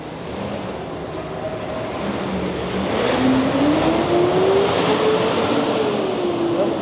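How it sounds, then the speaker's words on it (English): Trucks rumble past on a small-town main street in Bishopville, South Carolina, engine drone rising and shifting in pitch over a broad, steady traffic roar, with wind blowing. "The wind is blowing and the trucks are loud."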